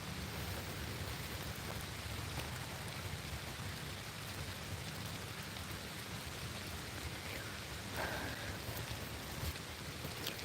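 Steady rain falls continuously outdoors, a dense, even hiss of drops on surfaces with no voices, faint and unbroken throughout.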